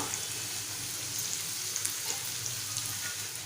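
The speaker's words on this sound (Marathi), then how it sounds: "आपण सोडलेल्या लसणीच्या पाकळ्या ठेचून घेतल्या ते घालूया" Crushed garlic cloves frying in a pan for a Malvani-style brinjal dish, a loud even hiss of hot oil with faint crackles and pops throughout.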